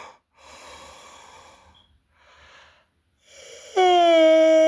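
A person yawns, a long drawn-out breath that rises into a strained, voiced tone near the end, with softer breathing sounds before it, close and fairly loud.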